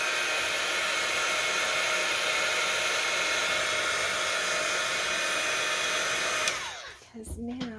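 Hair dryer blowing steadily on artwork, a loud continuous whirring rush up close that cuts off near the end, leaving a few faint knocks and handling noises.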